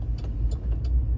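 A car rolls through city streets at night in Macon, a steady low road rumble with faint periodic ticks, heard from inside the vehicle.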